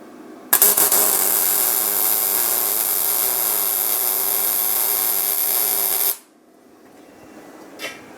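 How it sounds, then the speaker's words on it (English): A YesWelder Firstess MP200 MIG welder, powered from a Jackery portable power station, runs a bead on mild steel: a steady, loud, close crackling hiss that starts abruptly, holds for about five and a half seconds, then cuts off. "Let's see if the Firstess MP200 plugged into the Jackery will actually MIG weld this mild steel."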